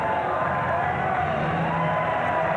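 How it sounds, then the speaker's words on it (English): A Frontier Wrestling Alliance crowd in London cheers and chants, a loud, constant roar of many voices with a rhythmic chant over it, heard up close with no pause. "the crowd now rising to their feet, the FWA chant going strong and sound"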